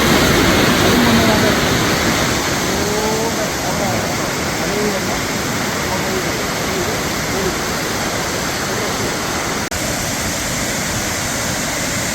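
The Kannampadi waterfall roars as a loud, steady wash of rushing water, close and unbroken, with faint voices in the background.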